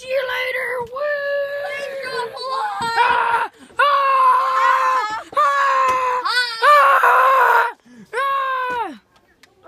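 A pet raccoon screams and squeals in repeated loud, close, high-pitched bursts with short gaps, shrill and wavering throughout, with no talk over it.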